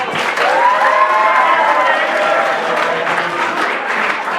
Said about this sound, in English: let's give our judges one more round of applause